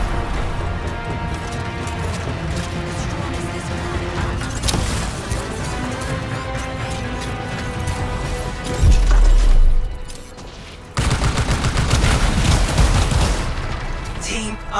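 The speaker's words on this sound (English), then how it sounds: "those fuel canisters are exploding" Fuel canisters exploding during an attack on a city in Anthem, heavy booms and crashing blasts over a steady game soundtrack, with a loud impact and a brief drop before the din resumes.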